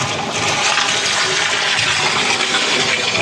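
Water rushes steadily into a home water softener's brine tank, a loud, continuous splashing hiss that fills the whole moment with no voices.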